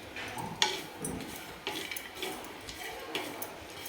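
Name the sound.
roasted peeled peanuts and sesame being stir-fried in oil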